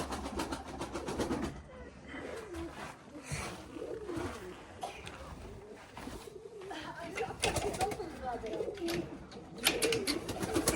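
Pigeons coo and shuffle inside a freshly cleaned coop, their low cooing and wing rustles close and continuous while a person talks over them.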